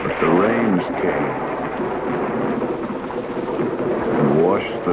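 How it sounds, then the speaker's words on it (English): Heavy rain falls steadily through a thunderstorm, with low rumbling and a continuous wash of noise, while a voice speaks over it. "But the rains came"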